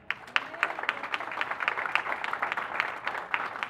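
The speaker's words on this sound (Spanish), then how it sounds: "Usted puede dar un fuerte aplauso al Señor" Applause rings out for the Lord at Kimberly's quinceañera celebration, a church-style gathering where the crowd claps steadily through the moment, moderately loud, with faint voices mixed beneath.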